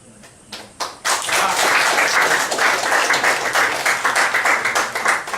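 Audience applause at a public talk in Malaysia, a brief patter of a few claps swelling into sustained, dense clapping that stays loud and steady to the end.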